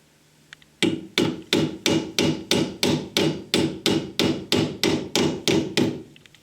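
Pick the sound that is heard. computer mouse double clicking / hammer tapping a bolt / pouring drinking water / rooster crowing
hammer tapping a bolt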